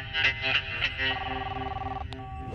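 A cartoon telephone rings in a bright electronic warble, repeating short trilling bursts and then a sustained ringing tone, loud and close with no voices over it.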